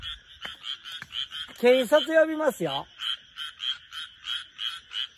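Frogs croak in a steady, pulsing chorus near rice paddies at night, rhythmic and fairly close, while a person speaks briefly over the calls partway through.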